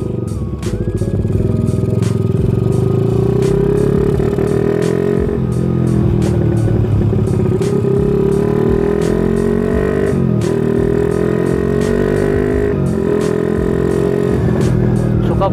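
Bored-out motorcycle engine with a flooding carburetor idling rough and loud up close, its low uneven rumble broken by repeated sharp clattering pops and sputters over about fifteen seconds.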